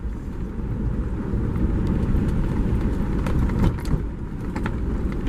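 A car drives along a rural road in autumn, with a steady, fairly loud broadband road and wind rumble that holds throughout and has a few brief rattles near the middle.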